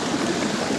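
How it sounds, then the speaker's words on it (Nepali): Water from a spring on a hillside rushes and gurgles steadily and close by, a continuous broadband wash with no pauses. "यहाँ पानी फुस्केको रहेछ"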